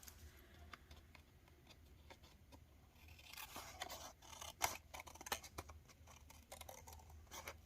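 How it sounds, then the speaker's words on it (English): Scissors snipping through card stock for a handmade Valentine card, a quick series of faint, crisp clicks and cuts close by, with quiet rustling between them and no voices. "And then we will take our scissors, snips"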